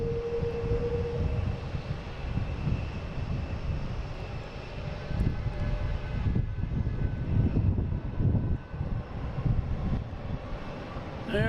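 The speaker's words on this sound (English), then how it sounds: "Next lining up is Scandinavian Airlines heading to Copenhagen. Flight 928, A330-300." A Scandinavian Airlines Airbus A330-300 at Boston Logan airport gives a steady, loud jet engine roar that swells slightly as it lines up, heard alone at a distance.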